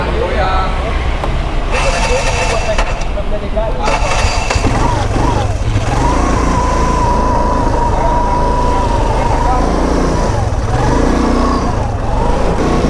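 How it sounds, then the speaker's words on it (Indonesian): A Vespa LX 125 scooter with a carburetor in poor condition runs steadily and loudly close by, its continuous engine drone holding throughout with a wavering whine on top and a voice heard under it. "motor udah nyala dan gue mau tes ride dulu motor LX125 ini"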